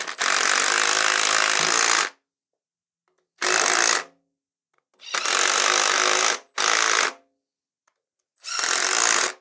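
An impact wrench tightens bolts on a small block Ford engine in loud, close bursts: five sharp rattling hammering runs of about one to two seconds each, separated by silent gaps.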